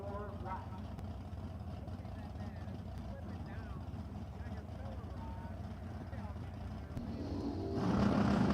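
Drag racing cars, including a Chevy Corvette, run down the strip at Empire Dragway. A steady engine roar sits under continuous commentary and swells louder near the end.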